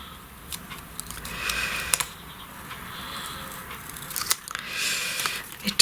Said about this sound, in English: I'm going to cut those little feelers off.